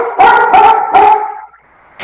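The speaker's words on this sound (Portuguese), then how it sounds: "Os cachorros já começaram a latir." Dogs bark at night in three loud, close, overlapping barks with a whining, howl-like tail, then a brief pause and the start of another bark.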